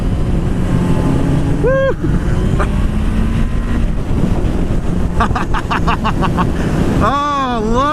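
A 2016 Suzuki Bandit motorcycle engine revs while riding, buried under heavy wind rush, with pitch rising in bursts near the end; a rider whoops briefly.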